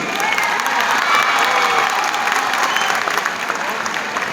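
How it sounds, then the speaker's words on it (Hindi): A crowd claps steadily and loudly throughout, dense applause with faint voices mixed in, continuing without pause. "आज जितेश, भाई जितेश के लिए ताली कम नहीं रहेगी थोड़ी?"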